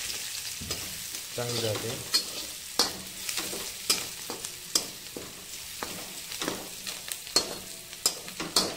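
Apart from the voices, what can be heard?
onion frying in oil with turmeric, stirred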